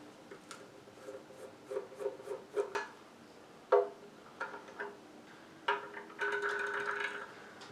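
Screwdriver working the screw on the saucer-section battery hatch of a TOMY 1/350 scale diecast lit Enterprise model: small close scraping, rubbing and ticking sounds in scattered bursts, with no voices.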